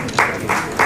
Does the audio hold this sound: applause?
yes